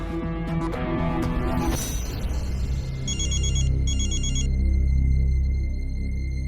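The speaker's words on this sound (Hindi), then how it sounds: "फोन उठा आदित्य, फोन उठा।" A phone rings with a repeating electronic tone over low background noise and rumble, no voices present.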